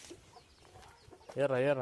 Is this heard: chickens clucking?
yes